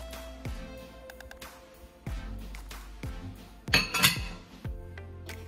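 Spoon stirring Hennessy butter of melted butter and dark brown sugar in a bowl, scattered clinks and scrapes against the bowl, close and fairly quiet with a louder clattering burst near the end, no talking.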